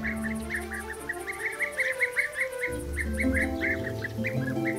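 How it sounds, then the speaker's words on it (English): European bee-eaters give a run of short, rolling chirped calls in quick succession, bright and fairly near, over a low musical drone with no talking. "The European bee-eater."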